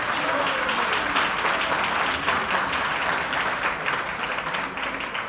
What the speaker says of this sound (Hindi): आप लोग आपकी तालियों के माध्यम से इनका सम्मान कीजिए